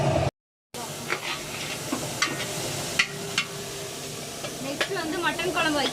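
Curry fries in a pot while being stirred, with a steady hiss of sizzling oil broken by sharp scraping clacks of a spoon against the pot, close up, with faint voices in the background.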